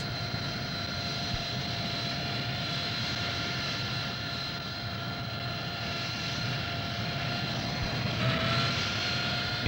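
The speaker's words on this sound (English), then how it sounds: "The aircraft accelerates forward and reaches normal wing-borne flight speed." A Harrier jet accelerating forward into wing-borne flight, with a steady, loud, roaring engine whine and broadband jet rush that holds throughout, close and continuous with no talk.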